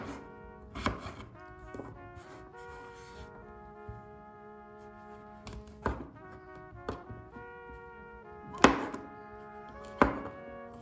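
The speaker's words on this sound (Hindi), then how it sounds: "और कैरेट के बाद हम काटेंगे कुछ आलू और मशरूम्स" A knife chopping potatoes and mushrooms on a cutting board, with sharp, irregular thunks spaced a second or two apart, close and fairly quiet over a soft background hum.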